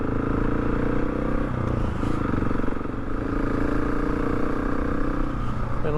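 A motorcycle engine pulls hard while riding, a continuous low throaty drone with wind rush and some rattle, holding steady and close throughout.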